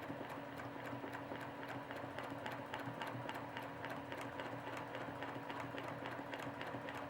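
A sewing machine fitted with a clarity foot sets a few stitches into a quilt, a steady rapid mechanical tapping running evenly throughout, close and fairly quiet, with no talk.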